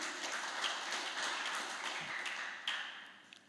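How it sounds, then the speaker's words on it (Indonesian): Congregation clapping during a church worship service, a steady broadband wash of applause lasting a few seconds and slowly thinning toward the end, fairly faint and distant. "Kasih tepuk tangan ya buat Tuhan."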